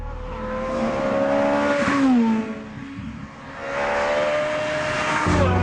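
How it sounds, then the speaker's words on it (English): A Ferrari F430 Scuderia supercar engine revs loud and close, rising and falling through the gears with a brief dip before it builds again and snarls hard to the end. "in the blue corner is the Ferrari F430 Scuderia"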